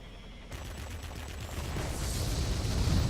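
Cannons fire from a Russian Ilyushin IL-40P attack aircraft in World of Warplanes, a rapid fusillade of shots that begins abruptly and builds in loudness over a few seconds.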